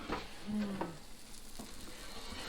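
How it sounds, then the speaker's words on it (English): A grilled cheese sandwich sizzles and crackles steadily in a hot pan, with a few scraping and clinking utensil sounds near the start. "Look at that sizzling in there."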